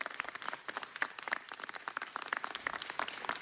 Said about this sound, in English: I want to give her a huge round of applause